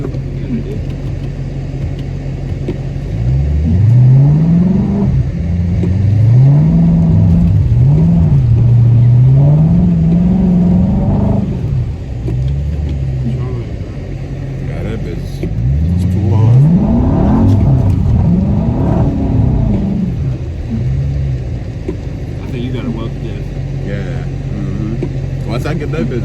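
A car engine revs hard while doing donuts in the rain, its pitch repeatedly rising and falling in surging bursts, close and loud, with people talking over it.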